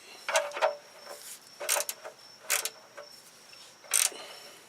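A wrench tightens the oil drain plug on a Jeep TJ, making several short metallic ratcheting clicks in separate bursts, close and fairly quiet, with no talk.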